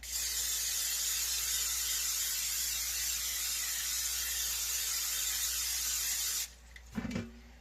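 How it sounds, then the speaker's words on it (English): A long continuous hiss of cooking spray on a 16-inch pizza pan, loud and close, runs for several seconds and then stops, followed by a couple of soft clunks. "need to spray down the pan."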